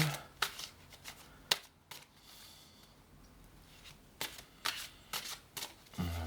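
Cards are shuffled and handled for a card reading, with soft riffling and sharp flicking taps in irregular clusters, close but quiet over faint background noise.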